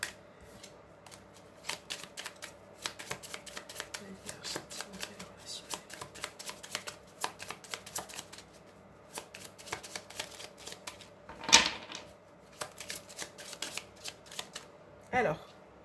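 Oracle cards being shuffled during a horoscope card reading: repeated soft, papery riffles and flicks in quick rhythmic bursts, close and fairly quiet, with a couple of sharper card snaps near the end.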